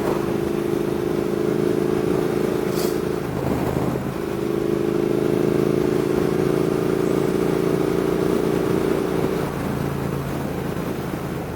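A Triumph Thruxton R motorcycle engine drones steadily while riding, fitted with the stock catalytic converter and silencers, holding an even pitch with a brief dip and shift midway and a wind-blown roar behind it.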